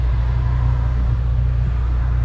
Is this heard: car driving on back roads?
yes